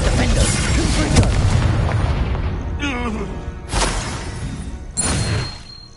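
Confringo blasting-spell explosions in Hogwarts Legacy: two heavy, booming blasts a little over a second apart, rising out of a continuous rumble of spellcasting and combat noise.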